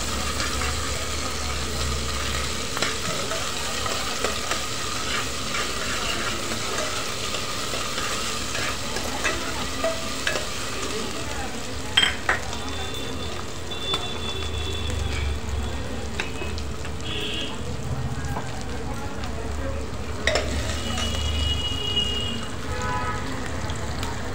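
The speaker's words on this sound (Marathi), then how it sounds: "एक चमचा आलं लसणाची पेस्ट घालणार आहोत। असं परतून घेणार आहोत।" Ginger-garlic paste sautéing in a pan while cooking a Demse bhaji, a steady frying sizzle with occasional stirring scrapes that runs throughout at moderate level, with no talk.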